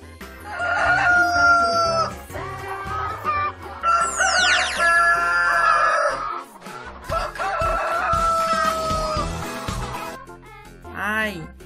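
A chicken crows and clucks within a cheerful children's alphabet phonics song, the calls rising clearly over bright music in several bursts.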